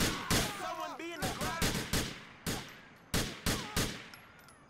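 Loud, close gunfire from Grand Theft Auto 4 crackles in sharp bursts, a dozen or so shots fired in uneven clusters with short gaps, each crack trailing off quickly.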